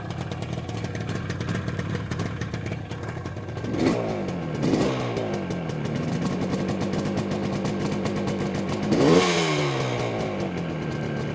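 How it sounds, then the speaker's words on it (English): A 1973 Yamaha RD350 motorcycle, cold-started after sitting in a showroom, runs alone with a steady buzzing two-stroke idle and two sharp throttle blips that rise and fall around the fourth and ninth seconds. "This motorcycle is a 1973 Yamaha RD350. This was a cold start."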